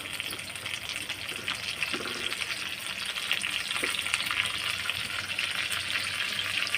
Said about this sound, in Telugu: ఆయిల్ వేసుకున్న తర్వాత బాగా హీట్ ఎక్కిన తర్వాత ముందుగా పుదీనా,